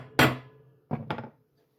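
A hammer taps twice on a steel plate being laid out for an RV tire carrier, two close sharp knocks about a second apart, the second with a quick double strike, then quiet.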